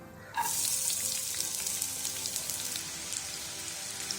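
After a brief quiet moment, a steady loud sizzle starts abruptly and continues as chopped onion hits hot oil in a pan.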